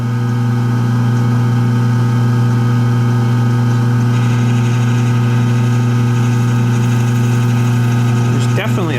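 A drill press with a large bit fitted runs slowly, with a wobble from a possible bent spindle. Its steady, loud motor hum drones continuously, with a brief rattle near the end.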